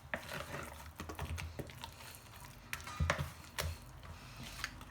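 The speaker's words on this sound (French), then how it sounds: "On mélange bien." Potato waffle batter being stirred in a bowl, giving faint, irregular clicks and soft scraping taps, quiet and close, with no talking.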